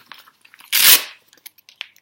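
A paper test sheet is torn out along a perforated edge, one loud close ripping burst of about half a second, framed by faint scattered paper rustles and taps.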